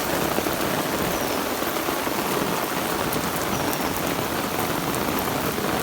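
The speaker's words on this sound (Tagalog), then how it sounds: "Lakas ng ulan guys. Grabe." Heavy rain pours down in a steady, dense hiss, loud and unbroken throughout, with no voices.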